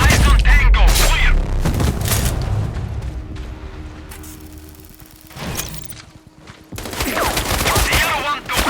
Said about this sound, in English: I'm listening to gunshots here.